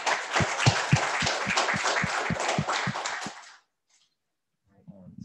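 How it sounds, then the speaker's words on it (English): An audience at a town council meeting claps for a local youth team being honoured, a short burst of close, distinct handclaps that stops after a few seconds, followed by silence. "So please, a round of applause."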